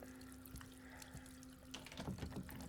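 Water running from a tap into a sink aboard a cruise ship in Layers of Fear 2, a faint steady flow with a sharper splashing burst near the end.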